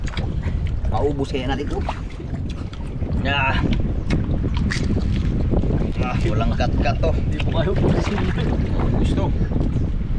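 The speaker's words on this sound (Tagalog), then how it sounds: "Ang lakas ang hangin." Strong wind roars and buffets the microphone continuously, along with water noise from a boat, while people talk loudly over it.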